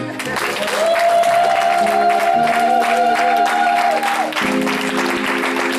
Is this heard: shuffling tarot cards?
no